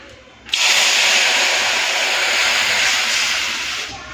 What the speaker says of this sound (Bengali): এই জলটা এরপরে আমি এই তেলের মধ্যে দিয়ে দেবো